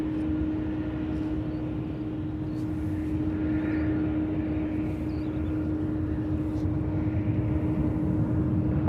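An Alaska airliner takes off from a San Francisco International Airport runway for a short hop to Oakland, its engines a loud, steady roar with a sustained tonal whine that holds throughout.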